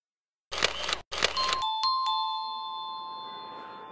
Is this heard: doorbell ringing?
yes